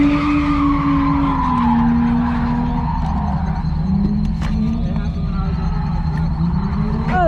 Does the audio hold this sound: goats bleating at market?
no